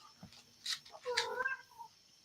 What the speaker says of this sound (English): They're purring into the microphone.